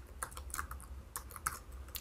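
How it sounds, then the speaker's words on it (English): Keys clatter on a computer keyboard during entry of items into point-of-sale software, a quick uneven patter of sharp clicks close by with short pauses, no voices. "I'm just going to start typing in some items."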